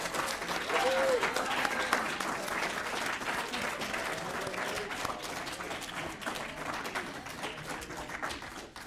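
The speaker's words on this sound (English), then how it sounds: "Give them a round of applause," A crowd at an honors college closing ceremony claps in a steady, full round of applause that continues throughout, with faint voices mixed in beneath the clapping.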